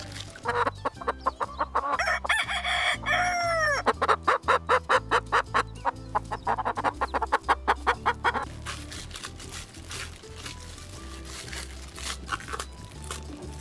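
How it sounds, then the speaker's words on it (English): Hen and rooster sounds from a children's animal-learning video: a run of rapid rhythmic clucks with a crow-like call early on, set over steady background music, no talking. "Wow, hen."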